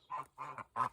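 Geese honking in three loud, nasal calls in quick succession, close by, with no voices over them.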